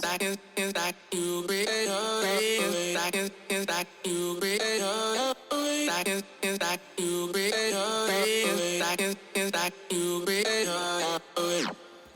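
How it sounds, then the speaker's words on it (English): Vocal chops in an EDM/electronic pop track: rapid, pitched, choppy vocal fragments cut with short rhythmic gaps, forming a bright melodic pattern that plays continuously at moderate level. "So the vocal chops sound like this."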